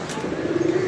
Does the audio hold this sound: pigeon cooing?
yes